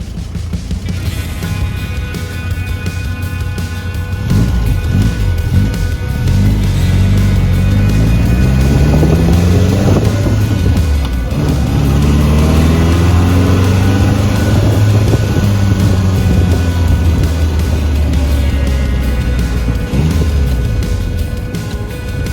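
A 1959 Triumph TR3 engine pulls loudly from inside the car while driving, climbing in pitch through the gears and settling into a steady, rumbling cruise.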